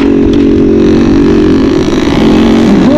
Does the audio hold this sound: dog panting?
no